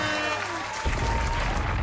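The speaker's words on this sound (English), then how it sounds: "Claps, air horns." Applause-like burst from a sound effect, a short noisy wash that rises after a thin tonal horn-like sound at the start, moderately quiet and heard alone.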